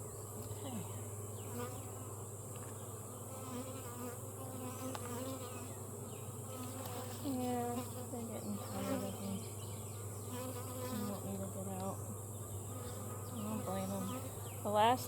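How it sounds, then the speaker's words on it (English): Honeybees drone steadily and close by in an open backyard hive during a frame inspection, a constant buzzing that runs the whole way through while a quiet voice speaks now and then. "This is probably the last one I'll pull out of this one. Because it's full of bees."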